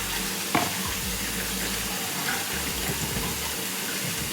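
Tap water runs steadily to rinse a batch of food in a sink, a continuous broadband rush with a brief clatter near the start and no talking.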